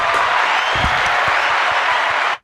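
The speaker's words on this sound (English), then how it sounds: "Let's give her a round of applause" Audience applause for a guest being introduced at a podcast recording, a dense, steady wash of clapping that holds for a couple of seconds and then cuts off abruptly.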